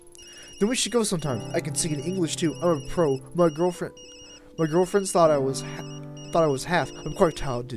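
A mobile phone rings in the game Tokyo Dark, a repeating high electronic trill running under and between a conversation.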